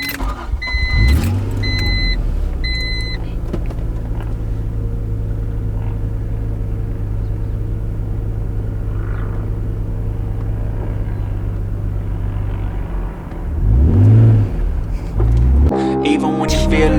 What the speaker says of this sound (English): Let's go ahead and start the car again.